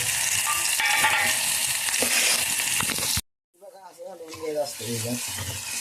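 Chopped onion, chili and tomato fry loudly in a hot pan, a dense steady sizzle for about three seconds that cuts off abruptly, after which a voice talks over quieter cooking.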